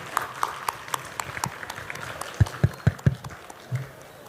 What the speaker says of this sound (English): please give a big round of applause to our chairpersons